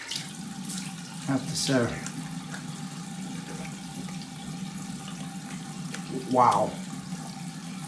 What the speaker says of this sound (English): Get all the hot water out of the line